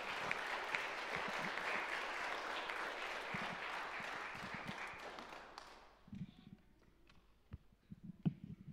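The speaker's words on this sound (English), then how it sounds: "Give them a round of applause" Church congregation applauding during a Sunday morning worship service, steady dense clapping for about six seconds, then fading to a few scattered claps and light taps.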